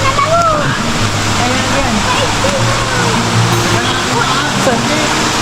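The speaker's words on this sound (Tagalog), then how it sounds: "Ito yung agos sa tubig dito. Napakalakas." Loud, steady rush of a powerful river current near Pagibig Falls, constant broadband water roar filling the whole clip while a person talks faintly over it.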